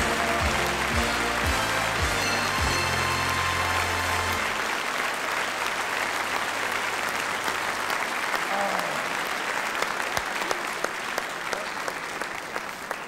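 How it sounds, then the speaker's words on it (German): A television game-show studio audience cheers and applauds loudly after a truck is balanced on four beer glasses, the clapping sustained and dense, with voices and music heard early on before the applause carries on alone. "Da draußen wird gejubelt."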